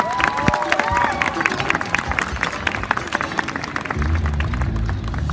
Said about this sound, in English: Can we get a massive round of applause for that?